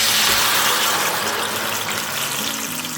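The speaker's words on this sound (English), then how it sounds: "Very carefully add that jar of ranchero sauce." Jarred ranchero sauce poured into a skillet of hot oil, giving a loud, steady broadband sizzle and hiss that holds throughout without any talking.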